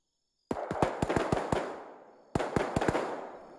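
Two bursts of sharp, rapid video game gunfire, close and loud, each a string of quick cracks with a decaying tail, separated by a short gap.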